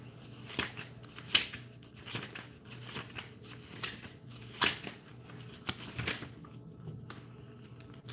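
Oracle cards being shuffled by hand, a series of soft riffling flicks and taps at irregular intervals, close and fairly quiet, no talking.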